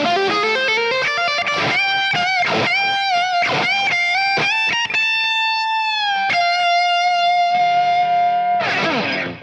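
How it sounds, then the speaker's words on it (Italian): Les Paul guitar with a Floyd Rose tremolo plays a heavily distorted lead through a boosted Marshall JCM 800 with lots of delay, loud and continuous, with picked runs, long sustained bent notes and echoing repeats, ending on a strummed chord. "Mi sposto su un amplificatore JCM 800 con un bel boost davanti e una vagonata di delay."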